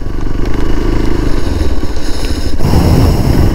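A motorcycle engine idling and rumbling steadily up close on a rainy road near Khandadhar waterfalls, a loud low throb with rattling clatter and a brief shift in pitch partway through.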